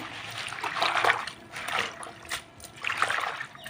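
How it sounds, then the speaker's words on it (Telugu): Water splashes and sloshes in three short bursts as gongura leaves are swished around in a basin, close by, with no talking. "ఈ గోంగూరని వాటర్లో వేసి కడుక్కున్నాం శుభ్రంగా"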